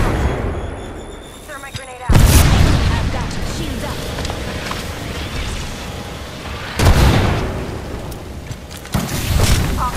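Grenade blasts in Apex Legends, heavy booming explosions that hit hard at three points over ongoing gunfire and shouting teammates' voices.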